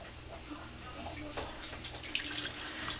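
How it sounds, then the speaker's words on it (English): White vinegar poured into a cooking pot, a steady liquid pouring and splashing sound running continuously throughout, fairly close and moderately loud, with light background kitchen noise. "I am adding vinegar, white vinegar."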